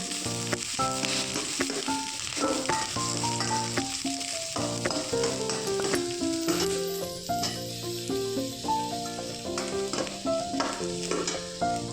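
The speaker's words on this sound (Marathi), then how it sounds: "आता आपण कांदा टाकूया कांदा कांद्याला चांगला गुलाबी रंग येईपर्यंत आपण परतून घेऊ" Onion fries in hot oil in a pan, a continuous close sizzle with frequent stirring clinks and scrapes at an even pace, with no voices.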